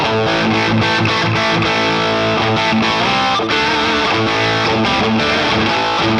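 An electric guitar plays through a Boss Katana amp's fat distortion effect, heavy and thick, loud chords ringing out with rhythmic chugging stops, no one talking.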